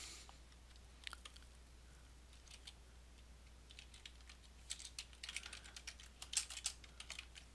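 Someone types on a computer keyboard, a scattered run of soft key clicks that grows busier toward the end over a steady low hum.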